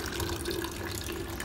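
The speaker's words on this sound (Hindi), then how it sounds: "पानी भरते हुए बॉटल भर गई" Water runs steadily from a tap into a bottle as it fills, a continuous close-up splashing hiss with no voices.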